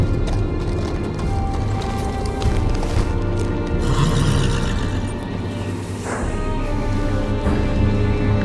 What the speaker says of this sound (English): On a horse, no less.